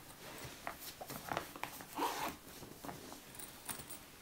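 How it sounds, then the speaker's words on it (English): Zipper on a classical nylon guitar gig bag, a Chase CCG400C, pulled open in several short rasping strokes, close and fairly quiet, with faint handling noise and no talk. "And then another zip for extra strings,"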